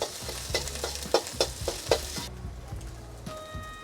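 Eggs frying in a pan for beef fried rice sizzle steadily while a utensil scrapes and taps the pan in a quick, irregular rhythm, then the scraping stops and a quieter sizzle continues alone.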